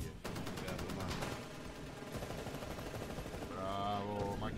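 Rapid automatic gunfire from the video game Titanfall rattles on steadily at a low level, with a brief electronic tone near the end and no clear speech.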